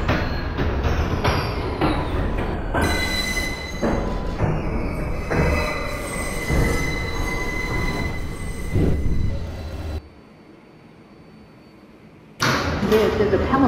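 A New York City 6 local subway train heading toward Pelham Bay Park rolls and screeches with long, loud wheel squeals and rumbling, broken by a brief quieter stretch before the clatter returns, with announcements heard over the noise.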